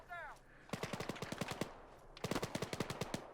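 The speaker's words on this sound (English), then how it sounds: "Gosh, still taking some more fire." Rapid automatic gunfire from a war video game, two loud close volleys of sharp repeated shots separated by a short pause, with a brief vocal sound just before the first burst.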